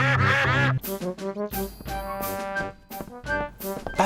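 Cartoon ducks quacking in a lively burst of repeated nasal quacks, several calls in uneven rhythm, close and clear.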